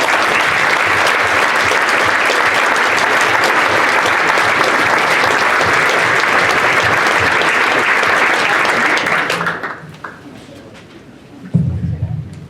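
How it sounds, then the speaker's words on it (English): Loud, sustained audience applause at a football club owners' evening as team members stand, dense clapping that fades after about nine seconds, followed by a brief voice. "Give them a big round of applause, everyone."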